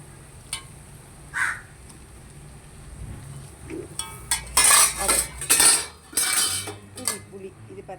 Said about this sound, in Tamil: காக்காவுக்கு பசி வந்துட்டு தான் ஃப்ரெண்ட்ஸ்.